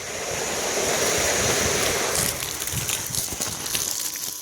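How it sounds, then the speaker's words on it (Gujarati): A water pump motor runs while filling a water tank on a farm, giving a continuous loud whooshing, rushing noise that swells slightly and then eases, with no voices over it. "આ મોટર આપણે કરી દીધી ચાલુ"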